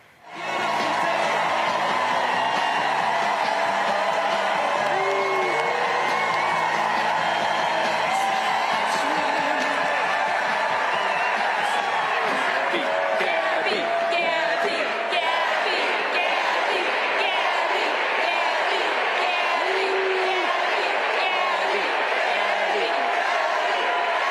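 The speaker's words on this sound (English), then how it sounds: "What a crowd!" A large crowd at a political rally in Arizona roars and cheers without pause, dense and loud throughout as the vice presidential nominee is about to speak.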